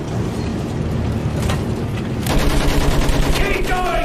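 Machine gun fire from a mounted MG in the World War I shooter Battlefield 1, a dense roaring fusillade of rapid shots that grows louder partway through amid battle noise and faint shouting.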